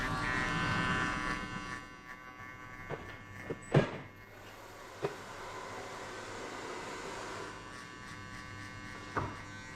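An electric hair clipper shapes the hair below the guideline during a zero high fade haircut, giving a steady close buzz broken by a few brief knocks and clicks.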